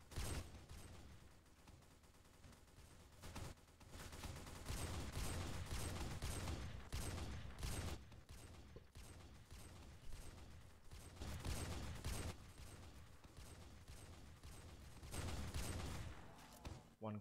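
Rapid gunfire from The Final Stand 2 zombie survival game on Arctic Nightmare difficulty: dense, loud bursts of shots with mechanical clatter roll on almost without pause for about seventeen seconds.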